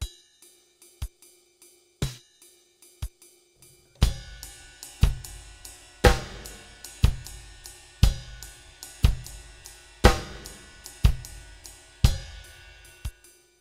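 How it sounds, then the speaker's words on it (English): Sequenced electronic drums: sparse bass drum thumps and ticking hi-hat at first, then a denser, steady pattern of kicks and hats repeating in a loop. "the bass drum duplicating what the hi-hat's playing"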